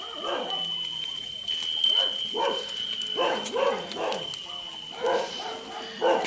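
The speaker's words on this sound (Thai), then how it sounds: "ทางน้องหมาก็ทักทายพี่ดาวนะครับผม" A dog yips and barks repeatedly in short, excited bursts, fairly close, over a steady high-pitched tone.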